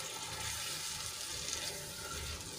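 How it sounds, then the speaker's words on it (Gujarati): Water from a glass is poured into buttermilk-based vegetable gravy in a pot, a faint continuous hissing splash with no talk over it. "અહીંયા હું બીજું 1 ગ્લાસ જેટલું પાણી એડ કરું છું"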